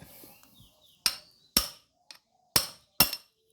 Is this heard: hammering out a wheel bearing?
yes